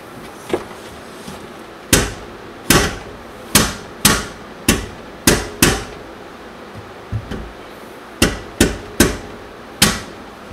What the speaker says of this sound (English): hitting the starter with a hammer a couple times